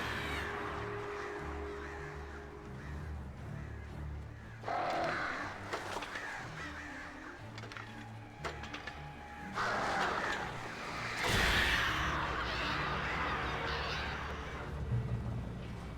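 Birds cawing loudly in several harsh bursts, close by, over a rumbling outdoor background of passing traffic.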